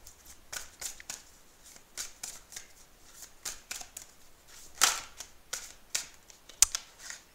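Oracle cards shuffled by hand in a quiet room, a series of soft riffles and taps with sharper clicks as a card slips out of the deck.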